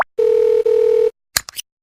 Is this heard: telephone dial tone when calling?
yes